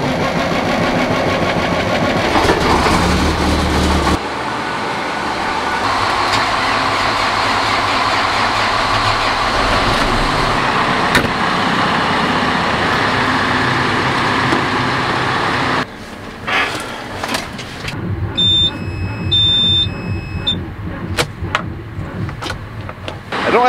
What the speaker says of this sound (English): The dump truck airing up.